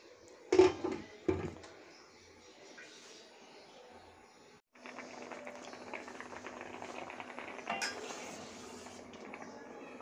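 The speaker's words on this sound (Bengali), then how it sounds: "আলু, ডাল, মিষ্টি কুমড়া অলমোস্ট সিদ্ধ হয়ে গিয়েছে।" A covered pot of potatoes, lentils and pumpkin boiling, a soft bubbling simmer starting after a couple of knocks and a lid-like clatter, faint and steady with light rattling of the lid.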